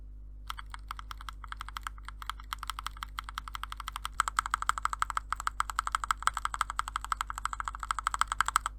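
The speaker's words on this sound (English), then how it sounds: "I'll leave you guys with a sound test of the keyboard with the modded stabilizers." Typing on a Kemove K68 65% mechanical keyboard with modded stabilizers and tall XDA profile keycaps produces steady, close clacking keystrokes that grow denser and louder about halfway through, with no speech.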